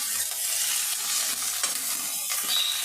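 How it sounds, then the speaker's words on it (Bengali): Potatoes and gourd-leaf stems being stirred in hot oil with lightly fried chilli and onion, a steady close sizzle with soft scraping turns throughout, no talking. "দিয়ে আমি একটু হালকা করে নাড়াচাড়া করে নেবো উল্টে পাল্টে।"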